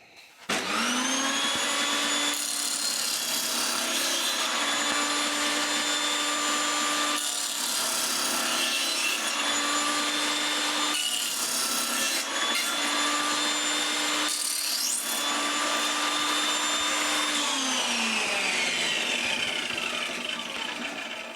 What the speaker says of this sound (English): use the kerf of the blade and make the cut gradually, piece by piece, taking multiple passes to get what you want